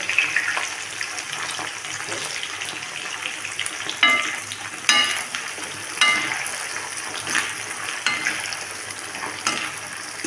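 Onions and green chilies sautéing in oil for a Tamil sundakkai kara kuzhambu, a steady close sizzle with intermittent sharp scraping stirs of a spoon against the pan and no talk.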